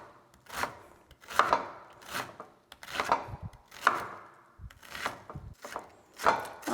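A knife chops purple cabbage into tiny pieces on a cutting board, giving a steady series of about ten crisp, close strokes with no talking.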